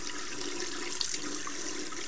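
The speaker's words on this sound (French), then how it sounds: "j'utilise toujours l'eau chaude ou de l'eau tiède en tout cas pour nettoyer" Warm water runs steadily from a tap while a hairbrush and comb are rinsed clean, a continuous close hiss and splash with a brief splatter near the middle and no speech.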